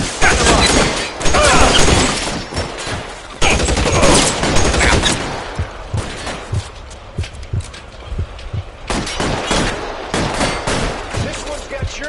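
Loud bursts of gunfire in the 1940s crime video game L.A. Noire, shots cracking in rapid, irregular volleys with brief lulls, close and dense over game ambience.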